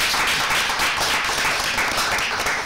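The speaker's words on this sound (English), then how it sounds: "Give yourselves a round of applause" A large audience applauds and claps continuously at a talk on child labour, slavery and trafficking; dense, steady clapping with no pauses, fairly loud.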